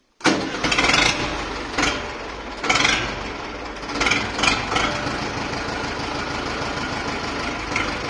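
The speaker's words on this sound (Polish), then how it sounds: "Uruchamiamy ciągnik." An Ursus C360 tractor engine cranks and catches abruptly, surging a few times before settling into a steady, chugging idle close by, around 750 rpm.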